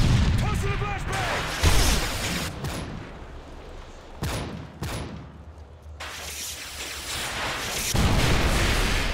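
Flashbang grenade bursts in Call of Duty MW3 Search and Destroy on the Lockdown map, sharp loud blasts at intervals amid gunfire, with game radio voices talking over the action.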